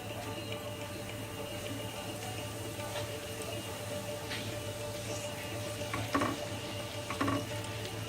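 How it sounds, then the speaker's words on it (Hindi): Spices are stirred into hot oil for lotus stem pickle, making a faint steady sizzle with a few soft scraping stirs near the end. "और इसमें मसाला डाल देंगे। इसे मिक्स करेंगे।"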